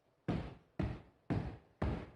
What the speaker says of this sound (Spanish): vamos a sumar el sonido de nuestros pies